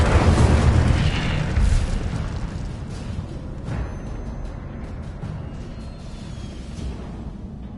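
Incendio fire spell cast in the Hogwarts Legacy video game: a loud, close fiery burst opens the moment, then settles into a sustained, rumbling roar that slowly fades.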